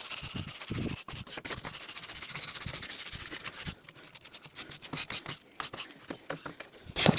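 Rubbing and sanding scrapes against wooden border pieces for a raised garden bed, steady and close for several seconds, then breaking into sharper, irregular scratching strokes.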